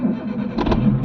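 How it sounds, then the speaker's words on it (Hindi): A Maruti Suzuki Zen VXi petrol car's engine cranks and catches, a brief close burst of starter whir rising out of a steady low rumble. "स्टार्ट हो रही है भाई, स्टार्ट हो रही है"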